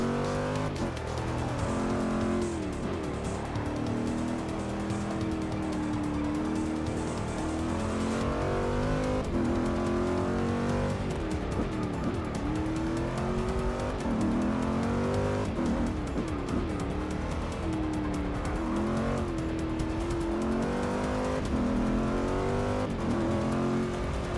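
A race car engine drones and revs continuously during an endurance race at Catalunya in Forza Motorsport 6, loud and close, rising and falling through gear changes with tire squeal, unbroken for the whole stretch and with no talk over it.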